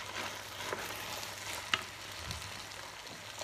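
Rice fries in a pan with spices, a soft, continuous sizzle with a few stirring scrapes and one sharp clink, no voices.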